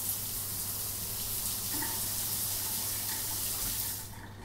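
A shower runs in the life-simulation game DENIZEN, a dense steady hiss of falling water that holds evenly for about four seconds, then drops away abruptly.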